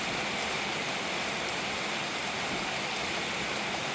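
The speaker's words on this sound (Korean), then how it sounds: "비가 막 폭우가 쏟아지네요." Heavy rain pours down outside at a farm, a loud, dense, unbroken hiss of water drumming on surfaces with no letup, close and steady throughout.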